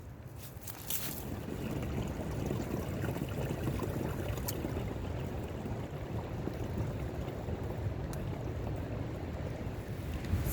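Strong wind gusts outdoors during maple syrup tapping season, a steady broadband rush that holds throughout with no voices, along with faint watery trickling.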